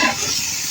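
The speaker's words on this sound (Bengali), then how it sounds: "দেখো মশলার সঙ্গে আমি হাতাটা দিয়ে বা খুন্তিটা দিয়ে লাউ এবং আলু" Spatula stirring bottle gourd and potato with spices in a pan, a brief, close, continuous scraping with a soft sizzle, no voices.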